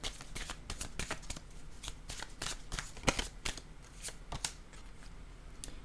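Tarot cards shuffled by hand at close range, a quiet rapid series of crisp riffling flicks and taps repeating irregularly throughout.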